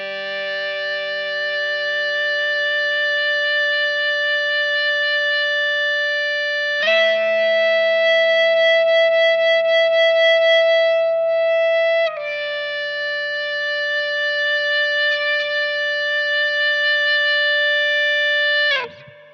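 Sustained, bright electric guitar tones played with an EBow on its harmonic setting ring smoothly with rich upper harmonics, shifting pitch a few times and holding long, even notes with no attack.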